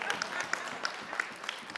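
A crowd at a conference applauds steadily at a moderate distance, a dense patter of many hands clapping without pause.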